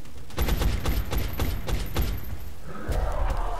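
Gunfire in XCOM: Enemy Unknown, a rapid burst of about eight loud, punchy shots in quick rhythm, then a softer rumbling tail.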